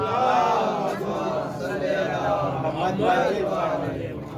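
A crowd at a mosque celebration of the birth of Imam Hussain chants salawat on Muhammad and his family in unison, a dense wash of many voices sustained over several seconds.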